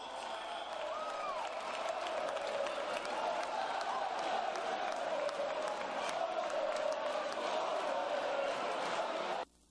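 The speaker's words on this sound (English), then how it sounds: "Bringing this crowd to their feet." In a high school gym during New Trier versus Maine South, spectators roar and clap in a sustained, energetic wave, with whoops rising from the mass of voices before the noise cuts off abruptly near the end.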